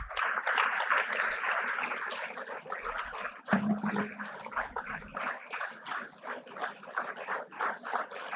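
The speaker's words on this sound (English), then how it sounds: "let the applause not stop" Audience applause fills a hall at the inaugural session of a Delhi medical conference, a brisk, continuous patter of many hands that stays moderately loud for several seconds, with a brief thud partway through.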